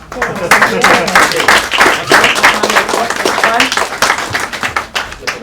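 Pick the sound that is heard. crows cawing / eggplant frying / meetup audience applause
meetup audience applause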